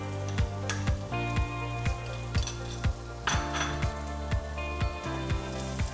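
Garlic paste and finely chopped onion frying in a pan give a steady close sizzle, punctuated by regular rhythmic clinks and scrapes of a spoon stirring against the metal.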